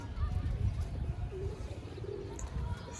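Domestic pigeons kept for pigeon flying in Sialkot, Pakistan give soft, low cooing calls at close range over a quiet background, with a faint higher chirp near the end.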